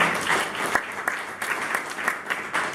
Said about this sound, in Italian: invito insomma anche ad accogliere con un applauso Nicoletta Milani